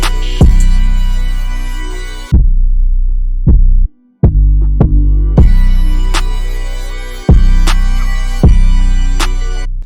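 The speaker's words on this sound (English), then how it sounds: "And also here I chop the drum so it sounds like this." A chopped hard-hitting drum pattern in an FL Studio beat: booming kicks and sharp percussive hits cut into stuttering fragments, with an abrupt dropout of silence midway before the loud pattern resumes.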